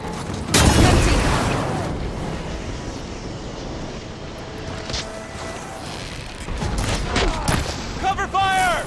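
Gunfire during a battle in the video game Horizon Forbidden West: bursts of shots and booms, loud near the start and again toward the end, with shouted voices mixed in.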